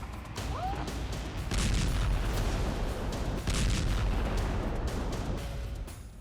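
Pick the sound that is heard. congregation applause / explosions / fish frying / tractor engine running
explosions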